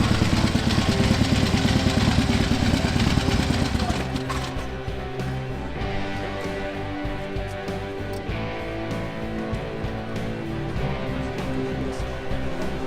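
A 1916 Indian Scout motorcycle engine runs steadily at an outdoor anniversary ride event, loud and close at first, then settling into a quieter, uneven idle clatter.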